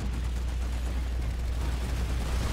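Dense, continuous gunfire from a Planetside 2 battle, a steady wall of shots and rumbling blasts that never lets up.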